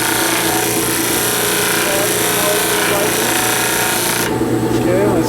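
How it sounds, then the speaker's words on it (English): A disc sander grinds steadily against a wooden part, a loud continuous broadband whir that holds unbroken throughout, with faint talk mixed in and a slight shift in tone near the end. "You could also use a disc sander to sand these."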